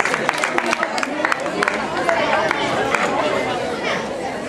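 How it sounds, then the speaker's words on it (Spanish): A crowd applauds the first-place winner of the senior women's category at an awards ceremony, scattered claps and cheering mixed with loud crowd chatter and a voice over the noise. "Démosle un fuerte aplauso a la señora Nancy Ugarteche"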